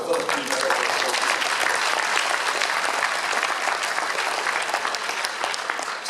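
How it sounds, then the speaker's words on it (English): A crowd gives a big round of applause for the Philippine Medical Association at an evening gathering. Many hands clap in a thick, continuous wash that holds steady and eases slightly near the end. "So a big round of applause for the Philippine Medical Association."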